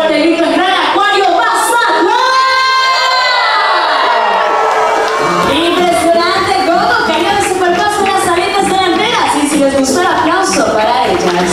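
Aquarium audience in Mazatlán shouting and cheering during a sea lion show, a loud, sustained roar of a crowd with many children's voices, plus a rising whistle-like sweep near the start.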